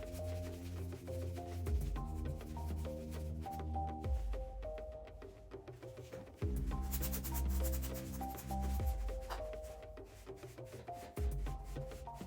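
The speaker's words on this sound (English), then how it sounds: "I like to take the opportunity to thoroughly clean the motor and degrease the brake disc." A Dualtron Victor electric scooter's rear hub motor being cleaned and its brake disc degreased: close, rhythmic rubbing and wiping strokes with small metallic clicks and pauses, quiet and without talking.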